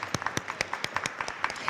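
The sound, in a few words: audience applause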